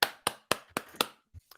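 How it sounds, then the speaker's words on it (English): A single person claps five times in a quick even rhythm, sharp and close, then a soft thump at the end, with no voices. "I'm going to give you a clap"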